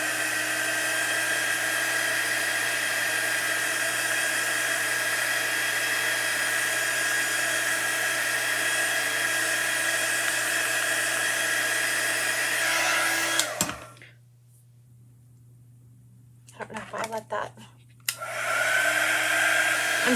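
A hair dryer runs loud and steady, close by, drying chalk paste on a Hocus Pocus broom craft project, then cuts off briefly before switching back on.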